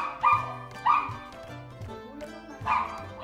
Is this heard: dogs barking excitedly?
yes